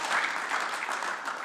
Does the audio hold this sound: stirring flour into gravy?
no